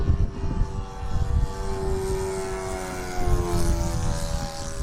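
An E-flite SR-71 Blackbird RC jet with twin 40mm ducted fans flies overhead, a steady high-pitched whine with shifting tone, fairly loud and continuous with no talking.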